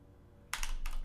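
A short burst of computer keyboard typing as a search query is entered: a pause, then two quick clusters of close, crisp key clicks.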